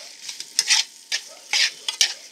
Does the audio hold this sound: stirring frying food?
yes